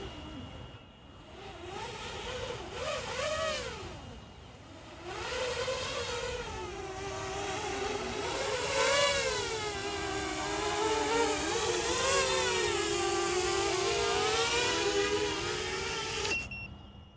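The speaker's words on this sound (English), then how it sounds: "The drone is just coming back." A GEPRC MOZ7 v2 long-range drone flying back overhead, its motors giving a loud sustained whine with rising and falling pitch that sweeps and wavers for most of the clip before cutting off abruptly.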